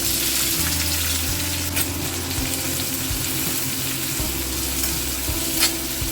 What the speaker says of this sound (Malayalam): ഓയിൽ ചൂടായിട്ട് വന്നിട്ടുണ്ട്. അപ്പോൾ നമ്മൾ നേരത്തെ നൈസായിട്ട് അരിഞ്ഞു വെച്ചിരിക്കുന്ന സവാള ഇതിനകത്തേക്ക് കൊടുക്കാം